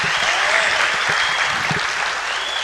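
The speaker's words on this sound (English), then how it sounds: "It's good to hear the little applause that we have." Scattered applause from a modest crowd at a Rutland City boxing event, steady clapping lasting a few seconds at moderate distance.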